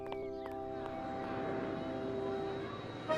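Cartoon propeller airplanes perform at an air show, producing a steady droning engine hum with sustained tonal whine that holds throughout and swells slightly toward the end.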